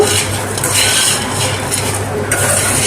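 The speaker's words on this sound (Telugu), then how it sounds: "ఇప్పుడు ఒకసారి మొత్తం కలుపుకున్నామండి" Spiced potato fry, seasoned with salt, chili powder and coriander powder, stirred in a pan, giving a steady close scraping and rustling with a faint sizzle throughout.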